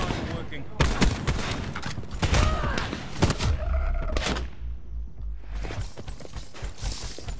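Sniper rifle gunfire in a video game shoot-out, several sharp, loud cracks spaced irregularly with booming echoes, mixed with other impacts and game sounds while a voice talks over parts of it.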